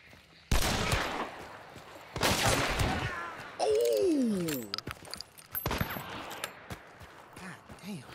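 Gunfire from snipers in the video game Hunt: Showdown cracks out as several loud, sharp shots spaced a second or two apart, mixed with other game sounds and a whistling tone in the middle.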